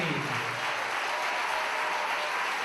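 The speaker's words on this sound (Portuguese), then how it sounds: "Aplauda Ele." Steady, dense applause from a church congregation honouring God during a Portuguese-language worship service, filling the whole moment evenly with no pauses or talk.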